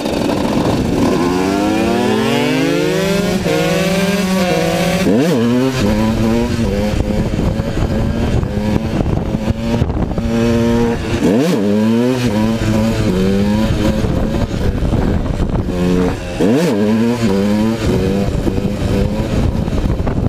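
A KTM/Husqvarna 125 two-stroke motorcycle revs hard and loud up close, its buzzing pitch climbing again and again in repeated blips and sweeps over about twenty seconds.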